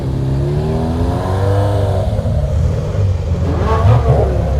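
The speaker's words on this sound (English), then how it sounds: "recognise that noise all day long. A 458 Spider." Ferrari 458 Spider engine at a track pageant at Oulton Park, a loud rising V8 howl sweeping past with shifting revs, then fading as another engine note climbs near the end.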